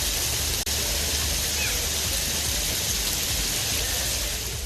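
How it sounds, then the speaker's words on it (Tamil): Heavy rain falls steadily, a dense, loud hiss that continues without a break and shows one short dip near the start. "பல்வேறு இடங்களில் திடீரென மழை பெய்ததால் வெப்பம் தணிந்தது"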